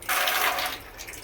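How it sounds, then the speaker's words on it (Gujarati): Water runs from a tap in a shop for a bath, a loud steady rush for about a second that then eases off, with no talk. "એના આગળ નળ ચાલુ કરી દઈને એટલે એની નીચે નાહી નાખશે"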